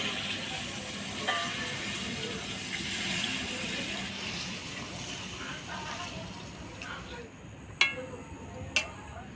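Water added to chicken curry frying in a pan, a soft continuous sizzle and bubbling with a couple of sharp clinks near the end, close and moderate in level.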